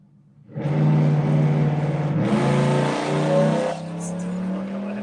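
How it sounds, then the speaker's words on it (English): An LS V8-powered Porsche 944 revs hard and close, its deep engine roar climbing and holding through repeated throttle blips at a motorsport event, then settling to a lower drone. "the LS powered Porsche 944"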